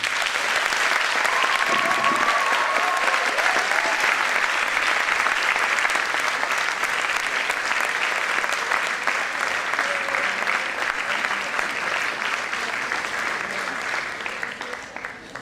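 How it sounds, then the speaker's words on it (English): Audience applause following a lecture at a 2015 Trinity event, a loud continuous wash of many hands clapping that holds steady throughout and fades slightly at the very end. "to give a total of applause"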